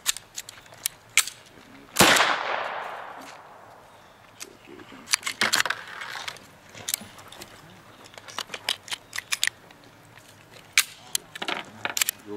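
Gunshots from a USFA Zip22 .22 firearm at an outdoor range: one loud sharp report with a decaying tail, followed by scattered, quieter sharp pops and clicks, with voices talking in between.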